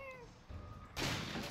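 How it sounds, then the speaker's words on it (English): A cat meows in Resident Evil 7 Biohazard, a short, faint, rising-and-falling cry heard alone near the start, followed by a couple of dull thumps. "Nope, that's a cat."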